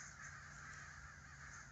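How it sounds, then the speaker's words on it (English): Crows caw faintly in the distance over a farm hay field, a soft sustained cawing over quiet outdoor ambience. "There's your crows."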